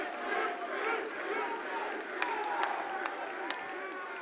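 A large crowd at the Six Invitational 2025 esports final between FaZe Clan and Unwanted cheers and claps in a steady roar, with a few sharp claps standing out, under a caster talking over it.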